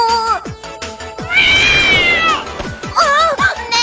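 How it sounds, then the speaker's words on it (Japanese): A cat meows several times in an anime-style drama audio production, with rising-and-falling wavering cries near the start and end and a long drawn-out yowl in the middle, loud and close over a busy background. "あ、猫ちゃん"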